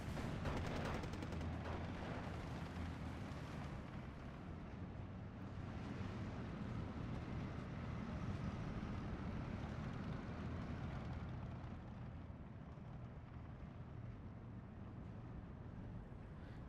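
Artillery and 81 mm mortar fire in the WWII strategy game Steel Division 2, a constant dense rumble of distant booms and battle noise rolling on without pause, with no voices.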